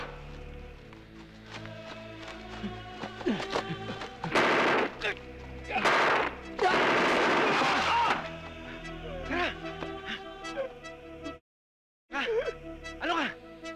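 Gunfire in a prison action scene, bursts of rapid machine-gun and gunshot blasts in loud clusters, separated by tense music and short gaps, with voices speaking in between.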